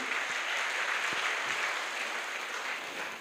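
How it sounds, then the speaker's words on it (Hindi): Loud, sustained applause from a large audience at a Safe Shop Diamond 2024 event, a dense continuous wash of clapping hands that holds steady throughout. "जोरदार ताली चाहूंगा उनके लिए, पुरुषोत्तम सर के लिए और अनिल सर के लिए"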